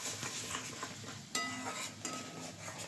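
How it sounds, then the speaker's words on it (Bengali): Spice paste of turmeric, chili powder and ground ginger, onion and garlic frying in a pan for aloo dum, with faint sizzling and soft scraping of a stirring spoon, plus a couple of sharp clinks against the pan. "এবার এই মশলাটাকে ভালো করে কষবো।"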